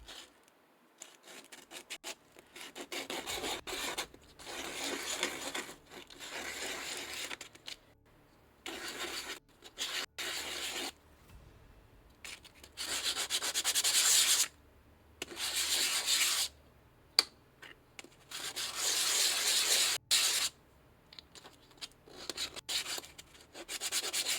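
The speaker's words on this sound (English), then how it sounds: "Scratching this up so the glue has something to stick on." Rasping, scratchy rubbing on a scale model part being roughed up with a file or sandpaper so glue will bond, in repeated close strokes with short pauses between bursts, no talk over it.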